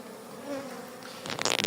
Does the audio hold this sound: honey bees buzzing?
yes